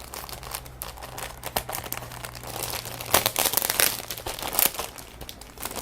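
A plastic bag holding Eduard 1/48 Spitfire model kit sprues crinkles and rustles continuously as it is handled up close, with louder crumpling bursts toward the middle and end.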